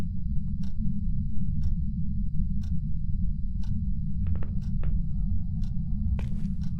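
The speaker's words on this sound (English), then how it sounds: "Those clocks, dude, they're maddening" Clocks ticking in the Phasmophobia ghost-hunting game, set in an asylum, a faint, steady sharp tick repeating about once a second over a constant low rumble, with a few brief clicks and knocks later on.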